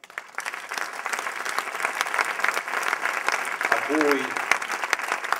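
An audience at an evening political event in Bologna breaks into sustained applause, dense clapping that builds and holds throughout, while someone speaks briefly over it.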